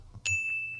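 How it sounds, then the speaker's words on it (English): A single small bell is struck once, giving a clear, bright ding that rings on and fades slowly, close and fairly loud, with faint low rumble beneath. "I'm ringing the bell over there, the single bell."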